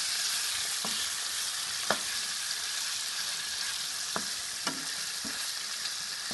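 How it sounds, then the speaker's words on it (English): Steady oily sizzle of stir frying in rice oil, with a few sharp clinks and scrapes of a utensil against the pan at irregular moments. "you can see I'm stir frying this."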